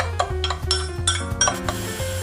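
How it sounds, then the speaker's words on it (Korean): A utensil stirs a seasoning of soy sauce, vinegar, sugar and pepper with garlic and red chili in a bowl, giving close, rhythmic clinks and scrapes against soft background music. "후추 뿌려서 잘 섞어주도록 하겠습니다."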